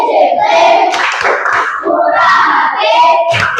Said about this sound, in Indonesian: Sebelumnya kita akan tepuk terlebih dahulu ya.